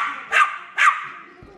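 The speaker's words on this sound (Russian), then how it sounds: "Так гавкает звонко" Two sharp, loud barks from a dog playing with a ball indoors, spaced about half a second apart, followed by a quiet pause.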